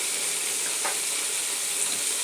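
Food sautéing in a hot pan gives a steady, close, bright sizzling hiss that holds evenly for a couple of seconds, with a brief louder flare near the middle and no talking.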